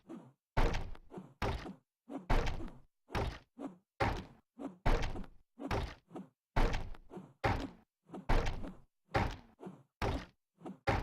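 Wood being harvested in Romero's Aftermath: a steady series of about sixteen sharp, evenly spaced chopping thunks, loud and close, with nothing else heard.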